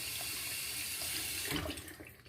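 Tap water runs steadily over a shaving brush knot being rinsed in a sink, a continuous close hiss and splash that shifts and thins toward the end as the flow is eased off.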